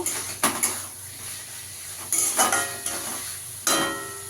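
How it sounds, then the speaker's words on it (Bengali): Fried potatoes being stir-fried with a cooked spice masala in a pan, with a steady sizzle broken by several clattering scrapes and knocks of the spatula against the metal, close by. "আলুটা দিয়ে আলুটার সঙ্গে ভালো করে কষিয়ে নেব"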